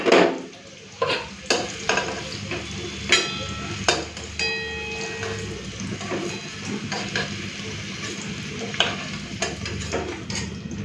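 Potatoes frying in oil in a pan, turned with a utensil: steady sizzle under repeated scraping strokes and metallic clinks, close up, with no talk.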